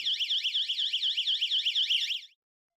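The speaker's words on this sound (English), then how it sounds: "The siren's volume can be changed, and it can get pretty loud." A YoLink leak detection siren sounds alone, a loud, rapidly warbling electronic wail that sweeps up and down in quick, even cycles, then cuts off abruptly.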